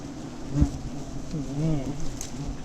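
Giant honey bees buzz around their nest during a honey harvest, a dense droning swarm close by with individual bees whining past and a brief thump of handling.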